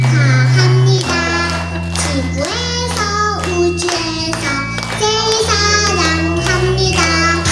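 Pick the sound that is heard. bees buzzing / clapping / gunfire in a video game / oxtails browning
clapping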